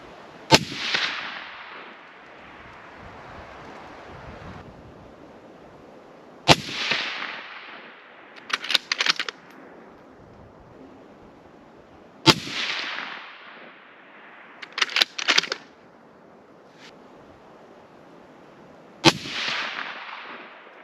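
A Ruger precision rifle fires Hornady Match 168 grain ELD rounds: four loud, sharp cracks about six seconds apart, each followed by a decaying echo and a quick clatter of the bolt cycling.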